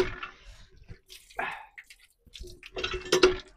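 Used plates are washed in cold hand-pump water in a village, giving intermittent splashes, drips and scrubbing sounds close by, separated by short quiet gaps.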